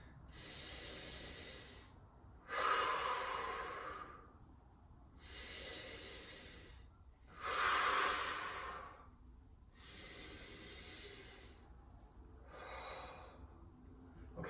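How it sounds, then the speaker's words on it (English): Slow, deep breaths held in a side plank during a workout: long inhales and hissing exhales alternate roughly every two to three seconds, close and fairly loud, with no talking. "3 deep breaths."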